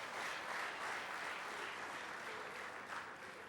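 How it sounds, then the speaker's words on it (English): Sustained applause from a crowd at a speech by the Ooni of Ife, honouring his daughter, steady and full throughout with no talk over it. "another resounding round of applause for my daughter."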